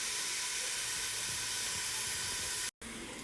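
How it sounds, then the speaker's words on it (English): Chopped half onion cooking in butter for mushroom risotto, a loud steady hiss of sizzling that runs continuously, briefly cut out near the end, with no talk. "This is half onion, and I'm gonna add it to the butter."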